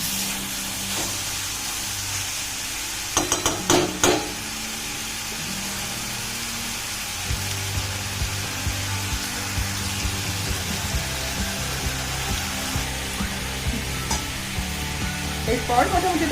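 Spices being sautéed and stirred in a pan, a steady low sizzle running throughout with a few sharper scraping knocks near the start, moderately close and without talk.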